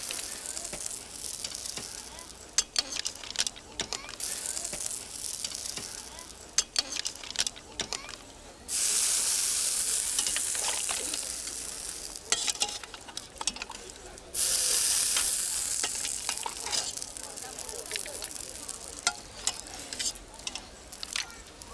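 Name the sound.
scallops and mussels frying in a pan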